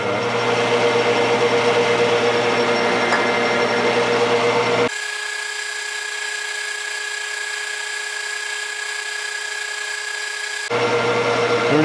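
A metal lathe turning a part for a 1971 Honda CB750 at 600 RPM, a steady, close cutting whine and hum that drops to a quieter tonal drone midway, then returns to full cutting noise.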